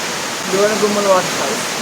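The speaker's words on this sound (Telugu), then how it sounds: "గోనగుమ్మల వాటర్ ఫాల్స్ అనమాట ఇది." The Gonagummala waterfall, set in a high place, gives off a steady, loud broadband roar that fills the whole stretch, with faint voices under the rushing water.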